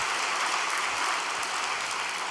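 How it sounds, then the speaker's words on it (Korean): Audience applause of thanks at a religious gathering's report session, a steady wash of many hands clapping at moderate volume with no break. "이 모든 선물을 저에게 안겨주신 참 부모님께 감사의 박수를 올려주시기 바랍니다"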